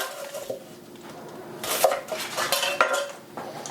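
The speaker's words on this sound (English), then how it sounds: "I'm just going to show you real quickly how to cut your onion and celery. I cut off both ends." A kitchen knife cuts the ends off an onion on a cutting board, giving a few sharp clacks and knocks close up with no talking.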